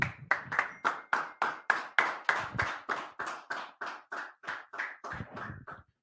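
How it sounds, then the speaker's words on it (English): A small group at a Tuesday brotherhood class claps in unison, about twenty crisp, evenly spaced claps in a steady rhythm that gradually softens toward the end, with no talking over it. "All right, go ahead, clap it up."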